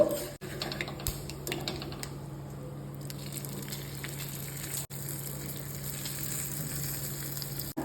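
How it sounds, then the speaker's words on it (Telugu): A steady crackling sizzle of hot tempering oil poured into a thick yogurt chutney, with soft scraping and clicks of a spoon as it gets stirred in. "ఇప్పుడు ఈ తయారైన పోపుని ఈ పెరుగు పచ్చడితో కలుపుదాము"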